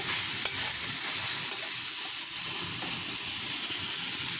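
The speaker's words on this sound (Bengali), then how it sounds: "এখানে মাংস কষাচ্ছে আর এখানে পটল ভাজা করতে।" Steady, loud sizzling and hissing from a pan where meat is being braised alongside pointed gourd frying in oil, a continuous close crackle with a few faint clinks and no talk.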